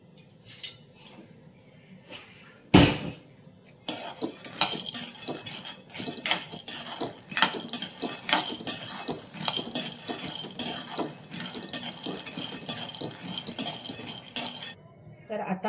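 Peanuts are stirred and dry-roasted in a pan, giving a steady run of light scraping clinks and rattles with one sharper knock near the start, fairly close and alone.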